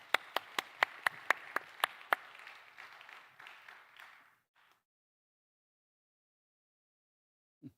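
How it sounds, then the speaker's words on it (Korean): Applause welcomes a deaconess to the front at a Friday night church prayer meeting: about eight sharp, evenly spaced claps, then a burst of scattered crowd clapping that fades out over a few seconds, followed by silence. "우리 박수로 모시겠습니다"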